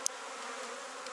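Honey bees buzz on open brood frames at a hive while bees are shaken off for a split colony, a dense, steady close-up drone with no talk.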